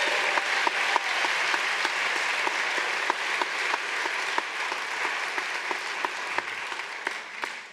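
A town hall forum audience claps steadily for a family singing group, dense even applause filling the room with sharp individual claps standing out, no voices over it.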